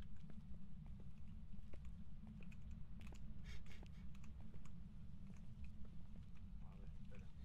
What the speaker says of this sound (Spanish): se escuchan las palomitas de su teclado